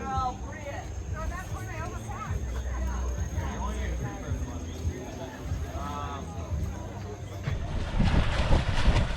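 Wind and water rush steadily around a sailboat motor-sailing east through the Virgin Islands, with voices talking over the noise and the gusting swelling louder near the end.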